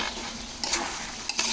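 Goat leg meat fries in a wok with a constant close sizzle, punctuated by two quick clinks and scrapes of a spoon stirring against the pan.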